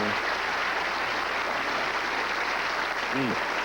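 Audience applause at a 1987 PBA Showboat Invitational bowling tournament: a steady, dense wash of clapping that fills the whole stretch at even loudness, with a brief voice rising near the end.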